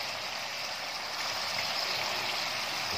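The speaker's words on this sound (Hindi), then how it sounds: "अब इसके अंदर हम गर्म पानी डालेंगे।" Hot water pours into a cooking pot of simmering bustard meat, a steady, soft, rushing splash that lasts the whole stretch.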